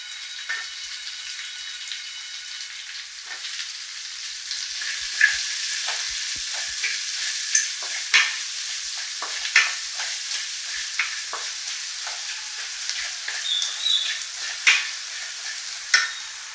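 Chopped onions frying in a pan for chicken green masala, a continuous bright sizzle broken by sharp crackles and pops, steady and close, with no voices.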